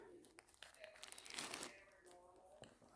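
A plastic bag crinkles on a Jeep Comanche bench seat during restoration, giving faint uneven rustling and crackling that swells in the middle, with a louder bump at the end.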